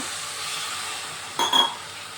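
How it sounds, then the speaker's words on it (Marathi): Quiet background hiss, then a short burst of sizzling and clinking as a little water hits a hot kadai of spices, fading back to a soft sizzle. "यामध्ये थोडंसं पाणी घालूया"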